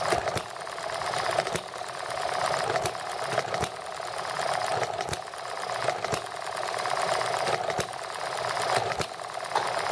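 A horizontal model engine running on nitromethane fuel gives a steady, rapid mechanical buzz for the whole stretch, broken by sharp periodic clicks or pops. The sound is loud and close, with no talk over it.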